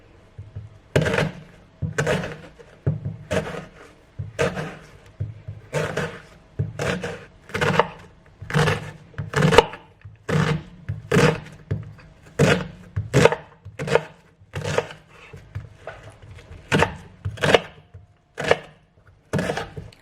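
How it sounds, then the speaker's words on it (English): A knife chops an onion on a board with steady, loud thunks, about one each second, repeating evenly and close by with no voices. "I'm going to chop that up fairly smallly as well, I think."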